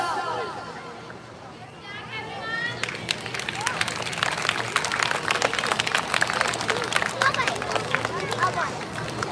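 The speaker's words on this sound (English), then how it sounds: "give them a round of applause" Applause and cheering from a crowd of primary school students and teachers at a Janmashtami celebration swell up after a quiet start, with a voice over the clapping.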